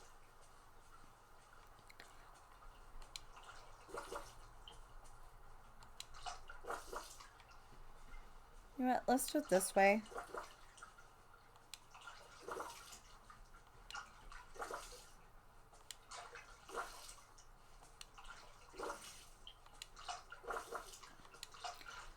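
Watering plants in the video game Dreamlight Valley: soft splashing and dripping water comes in short repeated bursts, with one louder splash midway, while a person talks quietly over it.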